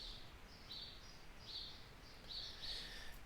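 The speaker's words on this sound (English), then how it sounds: "You can probably hear those birds outside." Small birds chirp outdoors in short, faint bursts of high tweets that repeat a few times over a steady low background hum.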